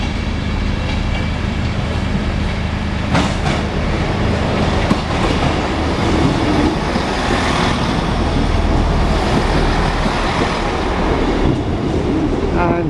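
A Doncaster–Scunthorpe train runs through a station with a loud continuous rumble and rhythmic clickety-clack of wheels over rail joints, steady throughout.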